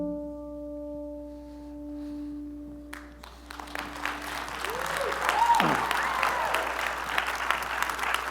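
Audience applause breaks out after a talk on personal stories, starting around three seconds in and swelling into sustained, dense clapping from a sizeable crowd that fills the rest of the clip.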